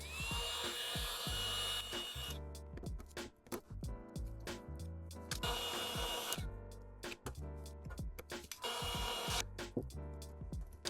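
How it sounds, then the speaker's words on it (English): Scraping leftover adhesive off the body of a Tesla Model Y Juniper with a hand tool during a paint protection film install, heard as loud, repeated rasping strokes in irregular bursts with short pauses, close up and without talk. "I'm just removing the big pieces of the adhesive before I start using glue gun."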